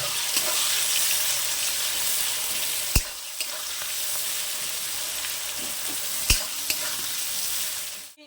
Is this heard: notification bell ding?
no